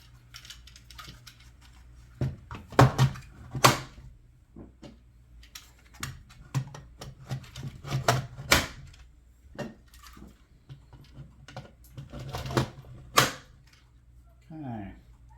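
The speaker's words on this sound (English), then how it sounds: "So we're just going to clip in our" Suction cup modules being clipped onto modular end-of-arm robot gripper tooling, giving scattered sharp plastic clicks and snaps close by, with a person talking throughout.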